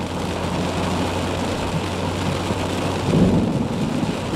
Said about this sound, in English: And good thunder.